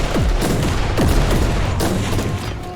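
Gunfire in the video game Warhammer 40,000: Inquisitor: several heavy shots with booming impacts and falling whistling tails, spaced roughly half a second apart over a dense rumbling battle backdrop.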